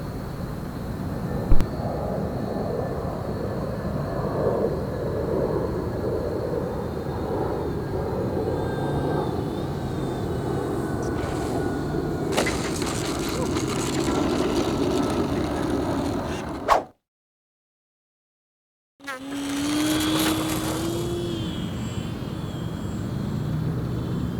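An FMS Explorer radio-controlled model airplane flies outdoors at an RC challenge event, its electric motor a steady whine with wind rumble throughout, slowing near landing, with a brief dropout before the motor sound resumes.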